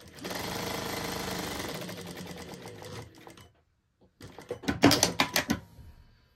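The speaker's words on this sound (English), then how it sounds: "I'm going to machine from that top notch to the bottom notch using my 1/2 inch seam allowance." A sewing machine stitches a trouser side seam along a half-inch seam allowance, running steadily for about three seconds, pausing, then a short burst of rapid mechanical clatter, close and loud, with no talking.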